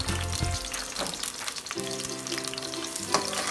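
Onion and garlic frying in hot oil for a chicken neck, liver and gizzard sotanghon dish, a steady close broadband sizzle with faint clinks, music tones running underneath and no voices.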